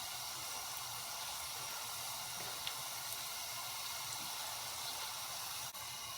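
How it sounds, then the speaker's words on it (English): Constant bubbling hiss of tortilla cones deep-frying in hot oil, steady and even throughout with a few faint pops. "I have now been frying the tandoori cones for a total of 4 minutes"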